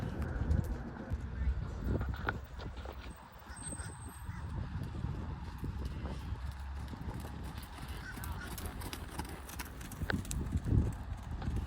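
Horse hooves thud in a rolling rhythm as a horse canters during a riding lesson, set against a rough, noisy outdoor background.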